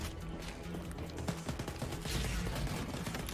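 Shotgun blasts and gunfire in the shooter game Wolfenstein: Youngblood, a dense, continuous burst of loud shots over roughly three seconds, with no talking.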